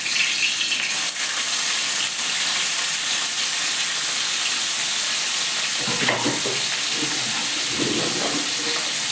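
A half fish head fries in a pan with a dense, loud, steady sizzle and hiss, broken near the end by a few stirring or shifting clatters.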